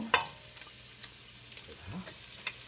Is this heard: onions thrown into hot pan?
yes